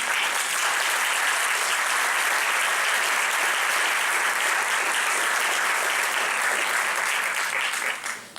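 An audience applauds in welcome for a guest named Estela at a community event in Gurabo, a dense, steady wash of many hands clapping at full strength that fades slightly at the very end.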